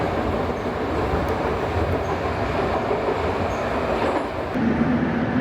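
A train rides the rails on a long journey through Uzbekistan, heard from inside the carriage as a loud, continuous rumble with faint rhythmic wheel clatter, steady throughout and with no talk.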